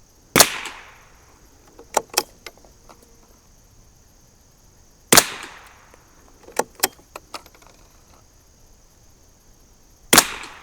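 A 1972 Anschutz Model 54 match rifle fires single crisp shots several seconds apart, each followed by faint clicks and rattles of the action, over a steady high-pitched background hiss.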